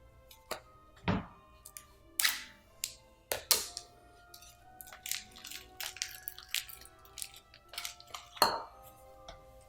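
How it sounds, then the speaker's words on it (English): A package of little sausages being opened for party recipes, heard as scattered crinkles, clicks and rustles of plastic and light clatter against a countertop, close and fairly quiet, without speech. "So I'm gonna open my little sausages."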